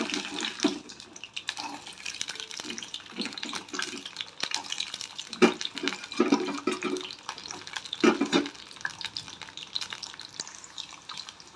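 Peeled garlic cloves frying in hot oil in a pan, an uneven close sizzle with scattered pops and crackles lasting about twelve seconds, no talk.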